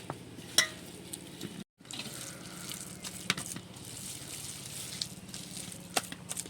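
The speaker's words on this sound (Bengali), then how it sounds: "অল্প সামান্য একটু জল দিয়ে ভালোভাবে মাখিয়ে নেব" Quiet wet squelching and patting of jute leaf fritter batter being hand-mixed with spices, cumin powder, garam masala and a little water, soft irregular sounds close by with a brief silent gap early on.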